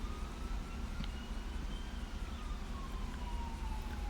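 An ambulance siren in the police game LSPDFR, on a rural county sheriff patrol: a thin wailing tone sweeps steadily over a low rumbling background, fairly faint and continuous with no talking.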